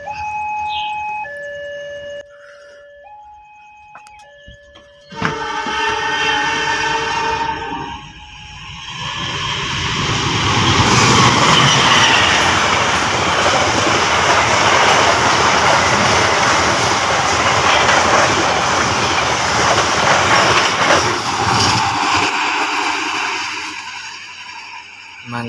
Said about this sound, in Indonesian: KA-17 Argo Semeru membawa satu kompartemen switch milik kereta api Bima ya